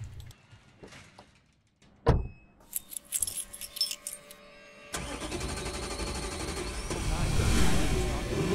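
Keys jangle near the start, followed by a car door and an engine starting and running steadily in the video game Infliction, with the rumble growing louder and persisting to the end.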